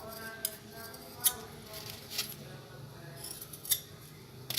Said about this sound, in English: that fabric scissors doesn't work on this fabric as well